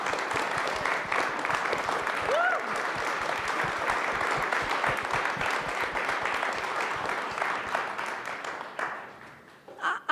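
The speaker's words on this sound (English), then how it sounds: "So again, a round of applause for our students" An audience at a Colorado event with the First Lady claps for students in sustained, dense applause lasting several seconds, fairly distant and even, then thinning out and fading near the end.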